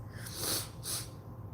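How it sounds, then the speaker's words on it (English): Two quick nasal sniffles close to the mic, each a short breathy burst of air, spaced about half a second apart over a low background hum. "I apologize for the sniffling"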